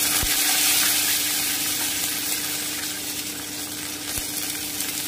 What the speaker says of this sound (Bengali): এবারে আমি বাদামটা ভেজে নিচ্ছি।